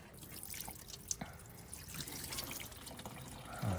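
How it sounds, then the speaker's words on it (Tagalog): Water poured into a car's air-conditioning unit drips out through its drain hole, a soft, faint patter of drops and trickling close by, with a slightly louder splash near the end. "Sige, buhusan mo ulit ng tubig para makita po natin."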